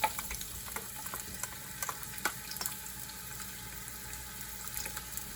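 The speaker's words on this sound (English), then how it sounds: "So we're going to start off by adding the onions." Chopped onions sautéing in oil in a pot over high heat for red conch stew, a steady soft sizzle with occasional clicks and stirring scrapes close by.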